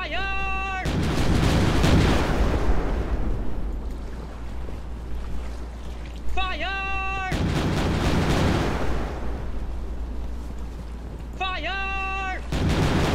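Cannon fire in the video game Forgotten Seas: three heavy booming blasts spaced a few seconds apart, each with a long rumbling tail, over a steady sea and wind backdrop with a musical tone between shots.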